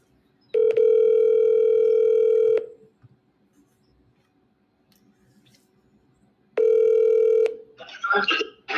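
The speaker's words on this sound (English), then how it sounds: "Dial tone to put me to sleep." A telephone handset plays a steady, loud dial tone for about two seconds, then silence, then the tone returns briefly before cutting to faint clicks and rustling.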